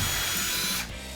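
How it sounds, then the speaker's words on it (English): A power drill bores through the center of a wooden circle in a woodshop, a loud high whirring grind that runs steadily and then cuts off abruptly near the end, with no talk over it. "So you want to drill that out."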